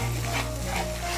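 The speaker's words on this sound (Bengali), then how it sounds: "টক দইটাকে ভালো করে মিশিয়ে নেব।" Spice paste fries in a pan as yogurt is stirred in, a dense continuous sizzle with scraping stir sounds, close and loud, no voices.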